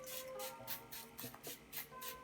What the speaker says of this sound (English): So this is the setting spray that I'm going to be using